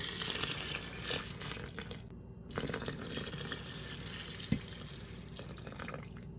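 Water pours from a tap into a pot of rinsed lentils, a continuous splashing stream with brief drips and pauses, heard alone.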